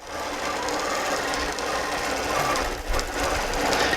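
A sewing machine basting a quilt runs in a steady, fast mechanical stitching rattle, close and continuous with a brief dip near the end.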